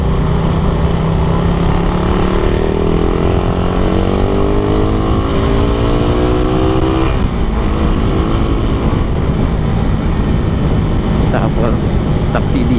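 A Raider 150 Gen1 motorcycle bored to 172cc idles and revs on its stock big-elbow exhaust, a loud continuous buzzing drone that rises in pitch and settles, with someone talking over it.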